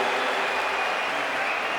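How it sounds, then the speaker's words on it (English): Crowd noise at an SLS street skateboarding contest in Sydney, a steady, fairly distant wash of applause and cheering from spectators, moderate in level and continuous, without commentary over it. "Oh, you can hear the crowd."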